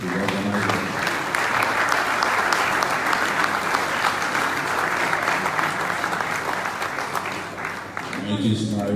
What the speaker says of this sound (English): So let's give a round of applause to the organizers.